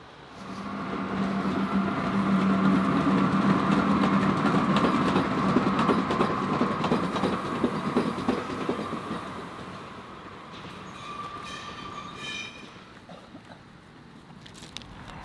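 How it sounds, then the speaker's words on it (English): An old train rolls past on the tracks close by, a steady loud rumble with rhythmic wheel clatter and a sustained metallic hum that slowly fades as the cars go by. "look at this beautiful old train"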